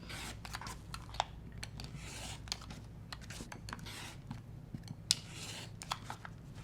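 Scissors snip through a fabric strap for a sewing project, a run of quick, faint crisp cuts and rustles close by, with no talk.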